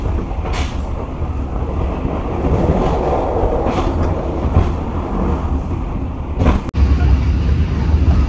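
Steady rumbling roar of the Mutiara Timur passenger train running on the rails, heard from inside an economy carriage, with rhythmic faint clacks and a sudden sharp clunk near the end.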